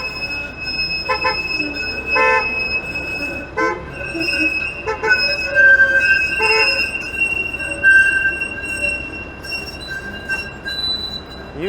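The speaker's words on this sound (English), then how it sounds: "You tell them, screechy streetcar." A Toronto streetcar's wheels screech on the rails in sustained high-pitched squeals and tones that rise and fade over a low street rumble, with a few sharp squeals along the way.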